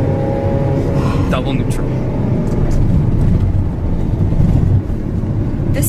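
Ferrari engine rumbling steadily through a ride, a constant loud low drone with a brief rise partway, heard from inside the car beneath people talking.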